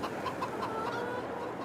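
Chickens clucking in a farm pen in the Farming Simulator 22 video game, a soft run of repeated clucks over a constant background hum, with no talk over it.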